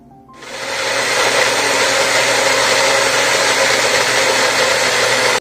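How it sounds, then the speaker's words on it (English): A blender whirs on abruptly, pureeing strawberry pieces, and runs at a steady, loud, high-pitched drone for several seconds before cutting off. "Put the strawberry pieces in a jar and blend them."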